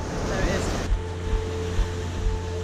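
Surf washing onto a UK shore, a broad steady roar with wind buffeting the microphone and a faint engine-like hum behind, louder and rougher in the first second before settling into a constant wash.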